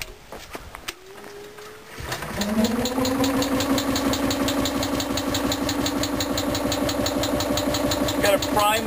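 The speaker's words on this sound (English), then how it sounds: "Now we're ready to start the engine." A syngas-fuelled electric generator engine cranks briefly, catches, and settles into a steady, loud, rhythmic idle with a continuous tonal hum, close to the listener.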